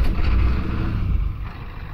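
A Ford 7.3 IDI diesel engine running at idle with the cold advance on and the high idle disabled, giving a loud, close, steady rumble that eases slightly toward the end, with no voices.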